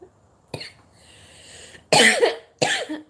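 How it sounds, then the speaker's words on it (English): Three harsh coughs come in separate bursts, close and loud, with quiet pauses in between. "The coughing really hurts."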